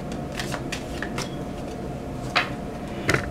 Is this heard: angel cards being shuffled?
yes